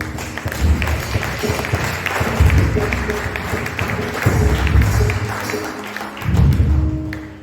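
A church congregation acclaiming the Lord during a sermon on the outpouring of the Holy Spirit, with rhythmic clapping and thumping, music underneath and voices rising in waves throughout.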